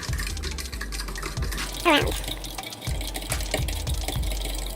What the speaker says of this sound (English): pour just a tiny bit and just to even it out, and then we stir it.